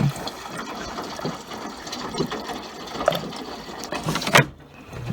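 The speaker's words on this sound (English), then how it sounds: "Here's the action of the softener dispensing." Fabric softener dispensing in a Maytag washer on a normal cycle, with water flushing and gurgling into the drum amid intermittent mechanical clicks and ratcheting, fairly close and steady throughout.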